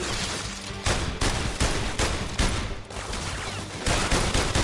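Guns firing in The London Heist VR game, with dense bursts of rapid shots and loud fusillades that start and stop in several waves, close and overpowering.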